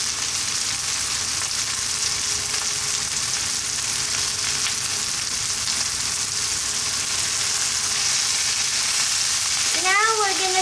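Mushroom cream pasta sizzling steadily in a pan, a continuous bright frying hiss throughout, with a brief whistly tone rising near the end.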